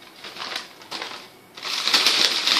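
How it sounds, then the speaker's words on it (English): Hay-filled paper bag toy having its top crumpled and twisted closed, a close, loud papery crackling in bursts that pause briefly then resume more steadily. "And I just crumple the top a little bit and just twist it."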